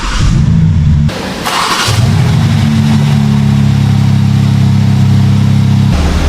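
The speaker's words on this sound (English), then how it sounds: "Now I can just start the car." A BMW G80 M3 with the S58 engine fires up with a loud starter crank and bark, then settles into a steady, deep, close idle that holds for several seconds.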